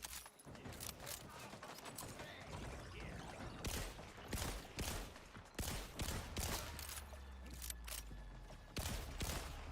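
Borderlands video game gunfire crackles in rapid bursts and separate sharp shots, some loud and close, others in quick volleys, with brief gaps between them.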